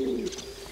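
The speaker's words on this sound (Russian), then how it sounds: "тут иногда голуби летают и устраивают бомбежку" Pigeons cooing near an apartment window, a single short low coo rolling out close to the glass with faint room tone behind it.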